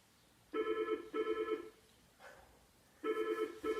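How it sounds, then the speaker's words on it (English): Telephone ringing indoors in pairs of trilling bursts, two rings, a pause, then two more, moderately loud and alone without talk. "There's the phone again."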